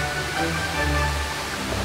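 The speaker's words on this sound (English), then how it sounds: "standing right there in the middle of the rainforest at the base of a waterfall" A rainforest waterfall in Costa Rica roars steadily from its base, a dense, even rush of falling water heard close and alone.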